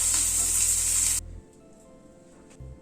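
Prawns stir-fried in a pan give off a loud, bright sizzle for about a second before it cuts off abruptly, leaving faint quiet crackling.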